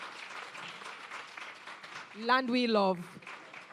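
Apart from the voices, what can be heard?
audience applause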